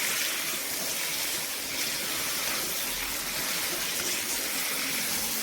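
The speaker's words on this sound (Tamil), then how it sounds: "ஒரு 100 அளவு தண்ணி மட்டும் சேர்த்துக்கலாம்," Water gushes steadily into a cooking pan for prawn curry in a continuous, close pour with a hissing rush that fills the whole clip.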